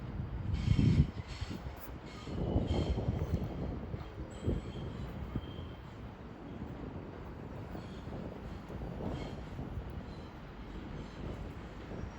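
A terminating train from London Euston approaches at Watford Junction on the West Coast Main Line, a distant low rumble building under gusts of wind buffeting the microphone.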